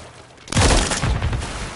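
A Call of Duty decoy grenade erupts in a loud, dense burst of fake gunfire crackle and booms that starts abruptly and keeps rattling steadily to the end.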